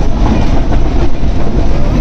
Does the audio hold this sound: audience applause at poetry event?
no